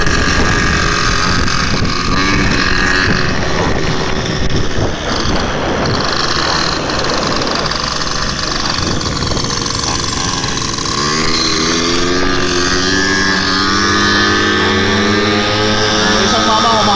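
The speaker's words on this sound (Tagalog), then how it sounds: "Isang bata nagpapalundag ng motor." A motorcycle ridden by a kid revs and climbs in pitch near the end, its engine whine rising and falling under loud wind buffeting the microphone while someone talks over it.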